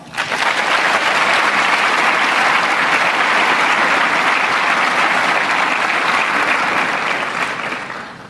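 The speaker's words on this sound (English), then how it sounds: "Please give these two individuals a round of applause." A large crowd claps steadily at an Army Officer Candidate School graduation, a dense, sustained round of applause that holds for several seconds before easing slightly at the end.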